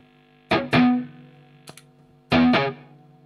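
Steady mains hum and buzz from an electric guitar amplifier with the MXR Smart Gate switched off and the guitar volume fully up, droning throughout beneath three loud distorted chord stabs and a brief pick tap, no voices.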